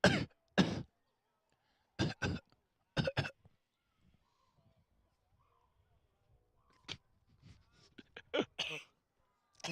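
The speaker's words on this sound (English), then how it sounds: "If you're going to cough into the mic, at least say excuse me" Several sharp, loud coughs and throat-clearing bursts hit a microphone at a baseball game, coming in quick clusters with quiet gaps between them.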